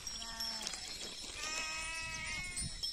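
Sheep let out to graze bleat in a few wavering cries close by, one after another over faint outdoor background.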